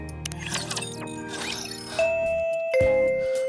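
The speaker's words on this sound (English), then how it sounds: "The school bell rings." A school bell chimes in a visual novel, two clear sustained tones sounding one after another, loud and close, following a brief stretch of busy game music.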